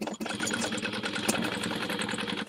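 A sewing machine stitches the seam of a tote bag, a rapid, steady mechanical chatter at close range with one brief pause near the start, running continuously without talk.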